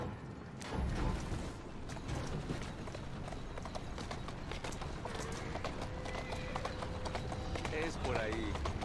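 Horse hooves clip-clop steadily through Assassin's Creed Syndicate, a rhythmic trot running throughout beneath game noise and a voice speaking over it, with a brief whinny-like tone near the end.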